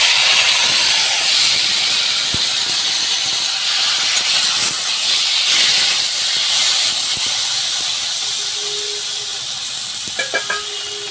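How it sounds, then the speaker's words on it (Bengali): Chopped tomatoes hit hot oil in a kadai, setting off a loud, steady sizzle that holds for several seconds and eases slightly toward the end. "কেটে রাখা টমেটোটা আমি কড়াই দিয়ে দিলাম"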